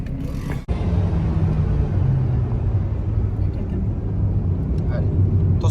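An Alpine A110 R sports car lapping a race circuit, its engine a steady, loud, close low drone with a brief sharp burst near the start before the sound settles into a continuous roar.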